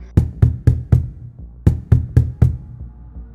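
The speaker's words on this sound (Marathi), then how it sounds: "जोरजोरात दार बडवू लागला" Loud, heavy knocks pound on a door in two bursts of four, each blow sharp and booming, with a short pause between the sets.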